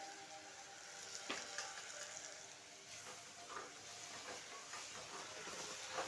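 Steady hiss and sizzle of egg masala with tomatoes and rock salt being sautéed in a pan, a continuous moderate frying sound with occasional soft scraping clicks, no voices.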